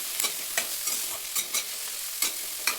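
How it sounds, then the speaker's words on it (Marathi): Spoon scraping and stirring carrot, turmeric and cumin in a pan for corn paratha, a series of close, distinct scrapes at an irregular rhythm with a light sizzle underneath. "आता थोडंसं हलवून घेऊया।"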